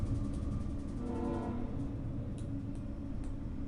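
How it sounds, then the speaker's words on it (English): A train passes nearby with a low continuous rumble, faint clicking of wheels over the rails and a brief tonal whine, heard without talk. "Sorry about the train."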